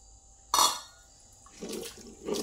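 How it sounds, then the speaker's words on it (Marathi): Vegetable cooking water is poured into mashed pav bhaji in a short, close splash, followed by softer liquid sloshing and trickling sounds that come in waves. "जे आपण आता हे यातलं एक्स्ट्राचं जे पाणी काढलं होतं ना भाजी शिजवल्यास, ते आपण ह्यात ओतून घेऊया."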